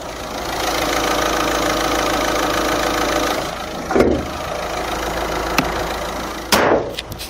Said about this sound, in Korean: 지금 바로 푸조 2008 차량의 엔진 소리 한번 자세하게 들려드리겠습니다